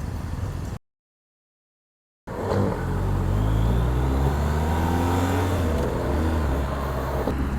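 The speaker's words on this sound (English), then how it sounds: "This is the BMW R 1250R. And so far, very smooth bike." A BMW R 1250 R motorcycle engine runs loud and close after a brief dropout, holding a steady deep rumbling drone with rising harmonic tones as it revs.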